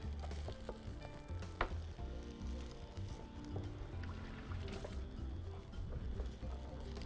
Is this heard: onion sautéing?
yes